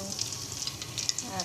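Shrimp sizzle and fry in a hot pan on a stove, a steady crackling hiss with scattered pops, close by and moderately quiet, with a voice speaking briefly underneath.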